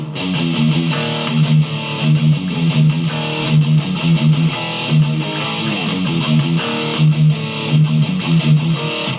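Distorted electric guitar chugs through the 3-1-0-1 riff, a loud, steady, heavy repeating figure played alone for several bars.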